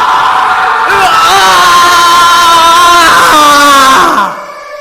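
A man's long, loud anguished scream in a horror tale set at Bhangarh Fort in Rajasthan, rising and wavering for about four seconds before breaking off abruptly.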